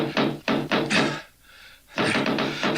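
Several firm knocks on a door ring out as a dramatic sound effect in a reading of Poe's The Tell-Tale Heart, a close, loud series of raps with a short gap before a final burst.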